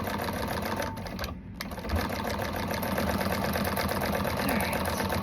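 A sewing machine runs steadily for several seconds while stitching fabric for an Allegra garment, with a brief dip in the motor's drone partway through and no talk.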